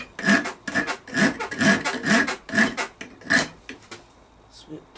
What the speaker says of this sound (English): Come in with a hot fire and a hot rasp.